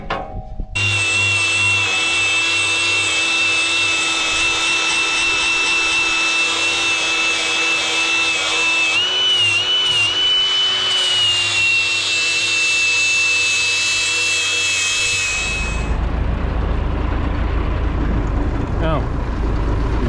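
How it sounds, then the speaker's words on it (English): Angle grinder cutting at a farm silage pit, a loud continuous high whine with a steady pitch that holds for about fifteen seconds before cutting off, leaving low rumbling background noise. "Now you go get the angle grinder."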